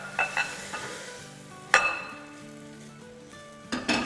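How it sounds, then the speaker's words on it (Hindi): Cooked minced meat for kababs or cutlets is scooped from a pan into a bowl, with a few close metallic scrapes and knocks of a utensil over faint sizzling and background music. "इसको एक बोल में निकाल लेते हैं ताकि ठंडा हो जाए जल्दी से"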